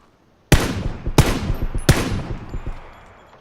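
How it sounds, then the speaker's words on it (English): Three sharp gunshots in the battle royale video game PUBG, evenly spaced and loud, each followed by a ringing echo that fades out. "Shot him in the head once."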